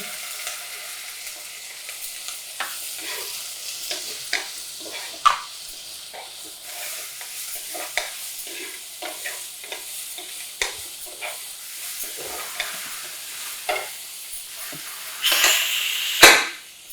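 Chopped carrot is stirred in a frying pan with a soft sizzle and repeated sharp clicks of a spoon against the pan, and a louder clatter comes near the end.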